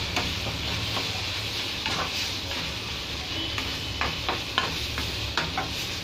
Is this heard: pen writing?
no